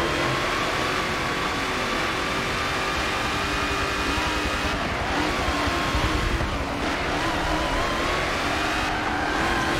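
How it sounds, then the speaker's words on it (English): In a racing video game, a supercharged race car engine holds a sustained loud roar with a thin supercharger whine on top, revs shifting slightly partway through, steady and unbroken. "I do love the sound of that supercharger line now."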